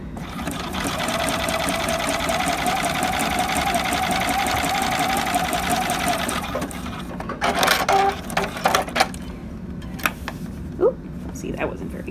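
Sewing machine stitching a knit binding band, running steadily and loud for about six seconds, then stopping, followed by scattered handling clicks and rustles.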